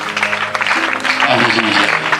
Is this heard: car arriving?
no